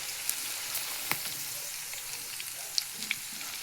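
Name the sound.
okra frying in a pan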